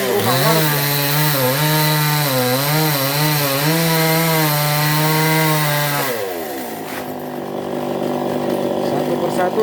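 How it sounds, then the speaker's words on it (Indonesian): A chainsaw cuts a tree beside a house, its engine holding a steady, loud whine that wavers as it bites, then drops off toward the end. Someone narrates over it. "memotong atau memangkas pohon ini yang berada di samping rumah warga"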